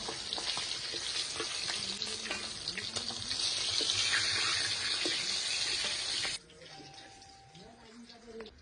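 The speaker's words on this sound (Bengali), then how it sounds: "এবার বাদ বাকি মাছগুলো ভেজে নেব।" Pieces of katla fish fry in hot oil with a loud, steady crackling sizzle, which suddenly drops to a much quieter bubbling near the end.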